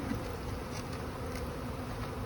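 Honey bees buzz around a two-queen hive, a dense continuous drone close to the microphone with no voices.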